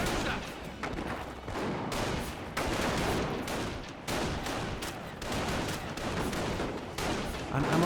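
Gunfire from a Company of Heroes battle, dense bursts of rifle and machine-gun shots with heavier blasts, continuous and loud throughout.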